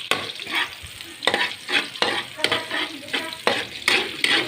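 Onion is stirred in a sizzling frying pan for adobo sa gata, with repeated rhythmic scraping strokes of a utensil against the pan over a constant close frying hiss.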